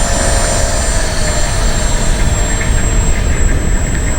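A Harvey wood lathe spinning up to high speed with no load, giving a steady, loud, continuous whirring hum that holds even throughout with no talk over it.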